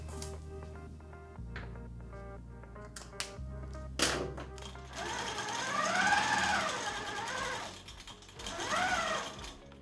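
A QMP 16 sewing machine stitches binding onto a quilt: a fast, even mechanical whir with rhythmic needle clatter in bursts, near and fairly quiet, ending in a couple of rising and falling runs.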